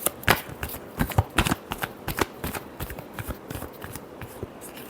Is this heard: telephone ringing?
no